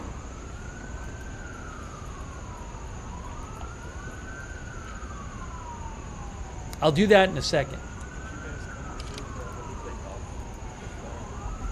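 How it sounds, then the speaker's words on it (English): Emergency sirens wail outside in a steady rising-and-falling cycle, distant and continuous behind brief loud talk from a man nearby. "Guys, I'm hearing sirens. I'm hearing sirens."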